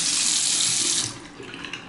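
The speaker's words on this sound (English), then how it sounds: "A pedestal sink, very good water pressure in this" Water runs steadily from the faucet of a pedestal sink in an apartment bathroom with strong water pressure, a loud close hiss for the first second that then drops to a quieter trickle.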